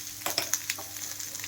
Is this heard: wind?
no